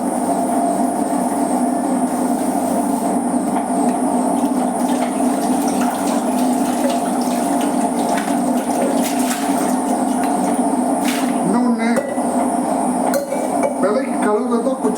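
Dishes being washed by hand at a home sink, running water and clinking pots and plates forming a steady, busy wash throughout, with sharper clatters near the end.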